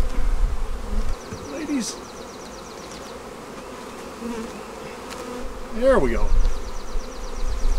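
A honeybee swarm buzzes steadily around a hive during a split, a dense insect hum running throughout with a beekeeper's brief remarks over it.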